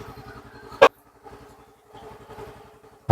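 A Yamaha Fazzio scooter engine idles with a soft, rapid, even putter, punctuated by two sharp loud bursts, close and fairly quiet overall.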